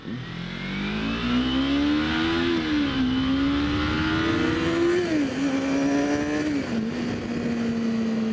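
A Yamaha R6 sport motorcycle revs hard and accelerates out of a U-turn, its loud, close engine note rising in pitch through several gear changes, each shift marked by a brief dip before it climbs again.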